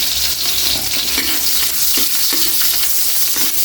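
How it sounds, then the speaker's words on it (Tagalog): Garlic sautés in a hot pan with onion, a loud steady sizzle broken by occasional scraping stirs, close up and without talk. "magigisa na tayo ng bawang at sibuyas"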